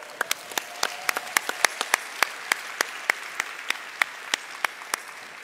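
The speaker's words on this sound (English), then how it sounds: "you all deserve a round of applause" An audience claps in scattered, fairly slow, distinct claps rather than a dense roar, holding an even pace for several seconds without voices.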